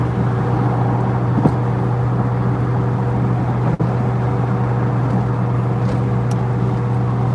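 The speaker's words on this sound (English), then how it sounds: "I'm driving the DeLorean" DeLorean time machine car cruising on a highway, a steady low engine drone and road rumble throughout, with a brief thump midway.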